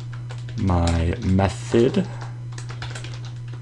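Keys clatter on a computer keyboard as Java code is typed, close and fairly loud, in short bursts under a man's speech with a steady hum in the background.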